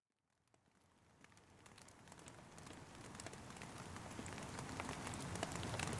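Rain falls outside at night, a soft hiss of drops that fades in from silence and steadily builds into a dense, even patter on surfaces, with no voices.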